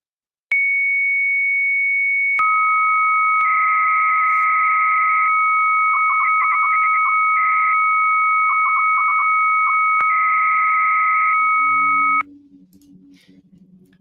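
A dial-up modem connects: a steady dial tone, then a loud sequence of shrill handshake tones, warbles and rapid chirping bursts lasting about ten seconds, cutting off abruptly into faint background noise.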